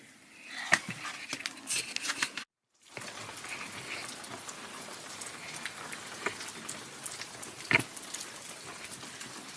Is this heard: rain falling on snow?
yes